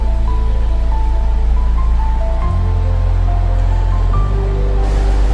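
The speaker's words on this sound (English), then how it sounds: "That sounds like a weir down there" River water rushes over a weir in the Rivelin Valley, heard from high above on the bank as a loud, steady, unbroken roar of flowing water.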